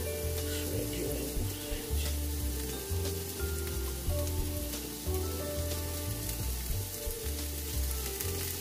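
Shredded slow-cooked corned beef sizzles and fries steadily in a hot pan, a dense continuous crackle with occasional stirring and a low background hum throughout.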